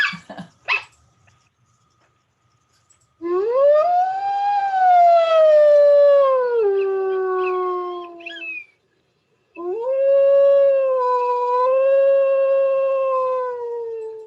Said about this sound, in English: So that's a lone coyote howling.